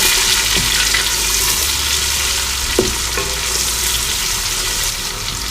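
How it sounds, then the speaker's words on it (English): Yam porridge with chopped onion being stirred in a pot, a steady close sizzling bubble with a couple of soft spoon knocks against the pot, no voices. "I'll give it a quick stir"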